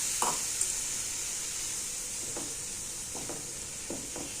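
Beetroot halwa simmers in boiled milk in a pan with a soft, steady bubbling hiss, broken by a few faint taps of a spoon.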